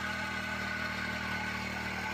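A mini power weeder's 4-stroke petrol engine runs steadily at a constant idle-like pace, a loud continuous mechanical drone with an even hum and no change in speed.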